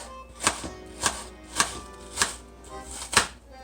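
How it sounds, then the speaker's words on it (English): A knife dices an onion on a cutting board for an Argentine salsa criolla, making five crisp, evenly spaced chops about half a second apart. The chops are close and distinct, with no talking. "So I just cut it in half. Now I'm going to dice it."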